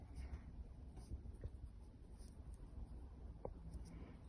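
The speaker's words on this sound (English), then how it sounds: "Make sure you write your name here." Pen writing on paper at close range, faint scratchy strokes and small taps scattered across a few seconds, quiet and alone, with no voices over it.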